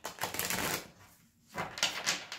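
Quick papery riffling of tarot cards in two close bursts separated by a short pause, crisp and fairly quiet.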